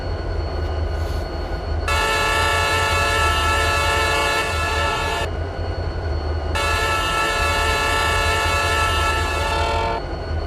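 Multiple SD40 diesel locomotive horns in a Roblox freight train sandbox: two long, loud chord blasts of several seconds each, separated by a short gap, over a constant low rumble of the train.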